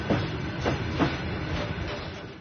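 A freight train runs on the railway near Mehdili village in the Jabrayil district, a steady rumbling roll with faint rhythmic wheel clacks repeating about every half second, close and continuous with no voices.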